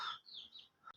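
Pigeons at a home loft, with bird chirps and calls close by, fairly quiet, with one short sharp call near the end.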